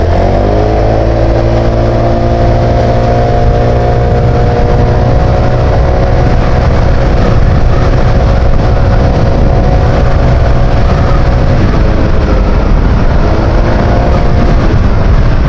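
Monarch Lance 150 scooter engine pulling hard on a test ride, a loud sustained drone with steady rising pitch, then a brief dip and a second climb near the end, heavy wind rush underneath.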